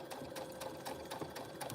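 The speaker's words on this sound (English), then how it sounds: "We're just sitting in front of a sewing machine" A sewing machine runs at a steady clip, its needle knocking out a quick rhythmic pattern of sharp ticks over a constant mechanical whir, close and alone with no talking.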